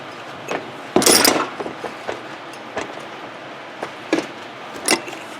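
Hammer blows on a steel chisel driving a seal off a Dodge Ram Cummins front driveshaft in a garage, one loud ringing strike followed by several lighter, scattered taps and knocks, close up with no talking.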